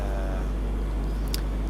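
A spacecraft engine burn in the Orbiter 2010 space flight game comes through as a steady, loud, low rumbling roar with a brief higher hiss near the end, and no one speaks.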